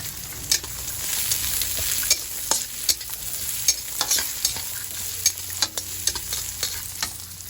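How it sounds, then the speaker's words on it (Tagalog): Garlic fries in a hot pan while vegetables are cooked, giving a steady, close sizzle broken by regular scraping and clinking strokes as it is stirred. "Lagyan na natin yung ating bawang"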